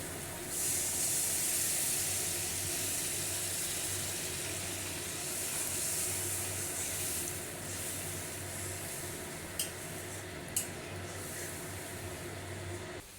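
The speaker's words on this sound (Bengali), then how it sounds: "মশলাটা কষানো হয়ে গেছে আমি এবার দিয়ে দিচ্ছি জল" Water poured onto a fried spice paste in a hot pan for a Bengali fish curry gives a loud, continuous steamy hiss that slowly eases, with two brief clicks near the end.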